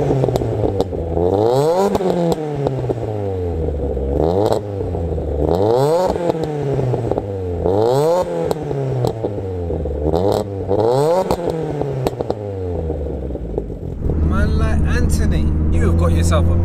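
Vauxhall Corsa VXR with 504 bhp and a full decat Cobra exhaust, starting and then revved hard in repeated sharp bursts roughly every two seconds, loud and close, ending in a rough idle.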